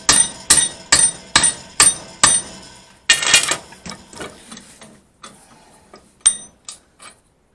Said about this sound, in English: Pound that down.